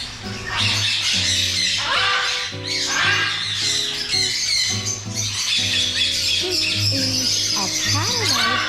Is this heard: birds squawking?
yes